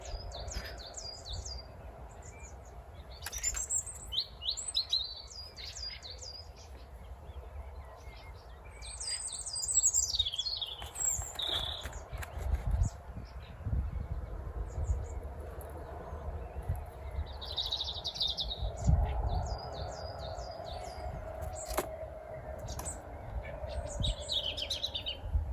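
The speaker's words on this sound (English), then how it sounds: "It's lovely to hear those birds." Wild birds chirping and singing outdoors in nature, repeated bright calls and trills from several birds over a low rumbling background, fairly close and clear.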